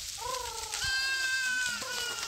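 A goat herd walking in a line through green fields in Jharkhand, India, with close, loud bleats rising and falling over a few seconds and another animal answering faintly.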